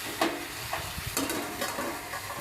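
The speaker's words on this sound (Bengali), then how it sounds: "এবার বেগুনটাকে আমি ভালো মতন আলু আর মশলার মধ্যে মিলাই নিচ্ছি সব দিয়ে" Eggplant being stirred into potatoes and spices in a pan for a rohu fish curry, with a soft steady sizzle and a few scraping strokes of the spoon, close and fairly quiet.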